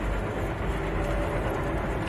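Continuous rumbling of a train rushing past rocks in the Star Wars Jedi: Fallen Order video game, a steady dense roar with no pauses, heard alone.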